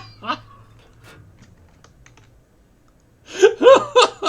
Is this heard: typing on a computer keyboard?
yes